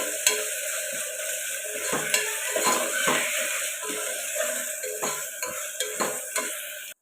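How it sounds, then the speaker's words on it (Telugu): Ginger garlic paste sizzles and fries in a hot pan for a country chicken curry, a steady crackle broken by repeated scrapes and knocks of a stirring spoon against the pan, close and with no talk. "ఇప్పుడు అల్లం వెల్లుల్లి పేస్ట్ అయితే వేసుకుందాం పచ్చివాసన పోయేదాకా ఫ్రై చేసుకుందాం"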